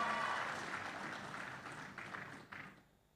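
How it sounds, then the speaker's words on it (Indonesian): Applause from a large audience at a mass housing-loan signing ceremony in Serang, Banten, dense and steady before thinning out, with a couple of louder bursts near the end. "Ya tepuk tangan tuh."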